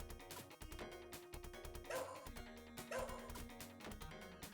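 Two sharp barks from a dog in the Shadow Dancer video game, about a second apart, set against dense game music and effects.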